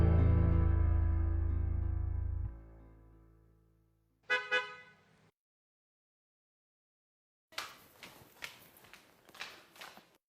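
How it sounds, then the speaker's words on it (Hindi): A long car horn blast fades out, then a shorter honk, followed after silence by faint footsteps and clatter. "ये तो जाजिब जी की गाड़ी का हॉर्न है।"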